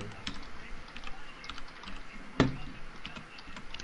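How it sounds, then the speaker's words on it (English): Someone typing fast on a computer keyboard, quiet rapid clicks of keys in a soft patter with one sharper keystroke standing out midway. "Someone's typing really fast."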